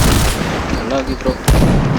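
Kriss submachine gun fire in a bomb-defusal shooter video game: loud, dense bursts of rapid shots fill the clip, briefly easing midway where a voice speaks, then a sharp, punchy crack near the end before the firing resumes.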